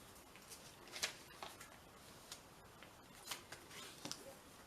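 Paper for a tri-fold tag book being creased and folded by hand, soft papery rustles and a few crisp snaps spread across the stretch, faint and close with no talking.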